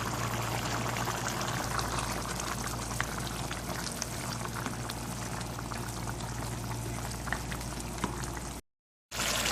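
A pot of thick mutton stew gravy with black pepper bubbles and simmers steadily at close range, with soft popping over a low hum and a short silent gap near the end.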